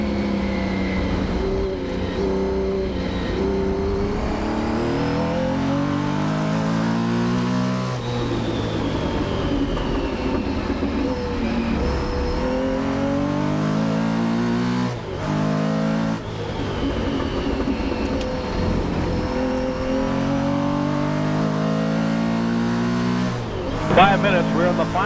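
A pack of 1969 Porsche 917K race cars battles closely on track, engines roaring through repeated gear changes as they rise and fall in pitch while passing, loud and continuous, with a commentator talking over them.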